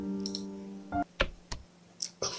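Short bursts of keyboard typing clicks in the video game Invisible Apartment Zero, a few quick separate taps following a brief tonal hum, close and fairly quiet with no talk.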